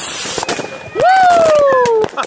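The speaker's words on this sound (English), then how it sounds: "We're shooting off our fireworks here." New Year's Eve fireworks going off nearby in Scharnhausen, a loud whistling rocket screaming upward and gliding down over a steady wash of bangs and crackles, with people's voices mixed in.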